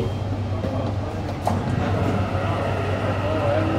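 A Riyadh metro train rumbles steadily past, a continuous low roar with a brief squeal near the end, close and loud throughout.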